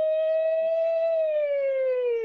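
A voice imitates an ambulance siren with one long sustained wail that holds steady and slowly falls in pitch, loud and alone.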